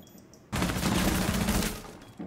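A gun in the Rainbow Six Siege video game is fired at a wall in one sustained burst of rapid shots lasting about a second and a half, loud and close after a quiet start.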